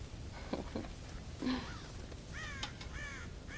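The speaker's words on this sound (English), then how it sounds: "God damn crows!" Crows cawing in the Red Dead Redemption video game on a farm: several harsh caws, the first faint and scattered, then a louder run of rough calls toward the end over steady low ambient rumble.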